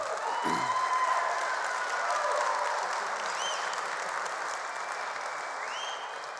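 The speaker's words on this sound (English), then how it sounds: "We can clap for them." A church congregation claps and cheers together, a steady mid-distance wash of applause with a few whoops rising above it, fading slightly toward the end.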